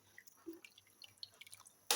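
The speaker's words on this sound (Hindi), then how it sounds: "अच्छी तरह से मिक्स करते हैं पानी के अंदर" Soaked rice being stirred into boiling water for chana pulao gives faint, scattered wet clicks and drips, with a sudden louder splash of water at the end.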